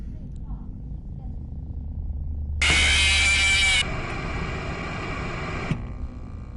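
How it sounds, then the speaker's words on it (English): Mechanical whirring and grinding from a video game as Bonnie's animatronic eye is pulled from its socket, a harsh steady buzz lasting a few seconds then stepping down to a lower drone before cutting off. "firmly grip Bonnie's left eye and carefully remove it from its socket"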